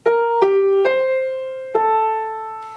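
Four sustained melodic notes of the Enigma Variations theme played by strings in a short-long rhythm, calm and moderately loud, with gentle swells between each note.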